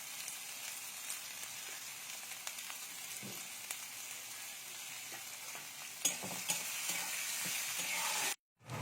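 Onion fries in a pan for poha, a soft, steady sizzle with occasional stirring clicks and scrapes, fairly quiet and close, with no voices, then a brief silence near the end.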